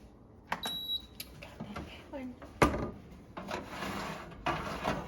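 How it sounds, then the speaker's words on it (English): An onion pie goes into a small preheated countertop air-fryer oven at 350 degrees: a series of knocks, clatters and a sharp metallic clunk of the basket and door, with a person talking in between. "now we're going to pop this in our little oven here"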